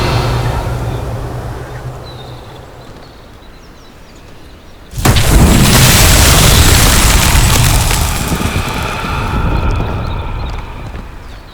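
A Revelio spell cast in Hogwarts Legacy lands as a sudden loud magical boom with a broad whooshing burst midway, sustained shimmering wash after it over quieter ambient background beforehand.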